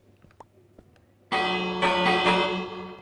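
A loud bell rings out in a video game village, striking suddenly after a quiet stretch of faint clicks, then sustaining with rich ringing overtones and a second strike that swells before slowly decaying.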